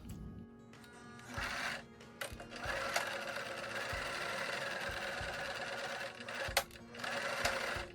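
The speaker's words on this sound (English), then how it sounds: "we're gonna take this over to our sewing machine and sew down to that marking" A sewing machine stitches fabric for a face mask in bursts, its motor whirring and the needle chattering rapidly, stopping briefly between stitching runs.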